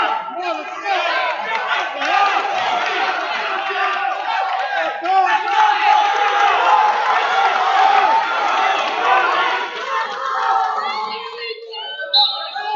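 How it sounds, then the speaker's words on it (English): Crowd at a high school wrestling match grows loud and excited, a sustained roar of cheering and shouting voices that swells through the middle and stays dense across the whole stretch. "Crowd starts to come alive."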